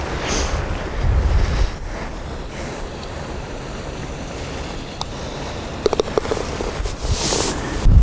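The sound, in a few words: strong wind on golf course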